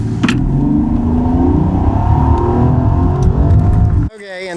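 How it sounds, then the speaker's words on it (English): Rolls-Royce Ghost Black Badge from 2022, its 6.75-litre twin-turbo V12 revving, a loud, steady, close engine drone that holds throughout, then cuts off abruptly near the end. "6 3/4 liter V12 engine, twin turbo."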